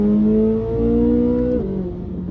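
A 2023 Chevrolet Corvette Z06 3LZ with its naturally aspirated 5.5-litre engine pulls hard from 60 mph, the engine note climbing steadily and loudly before a quick gear change drops the pitch near the end.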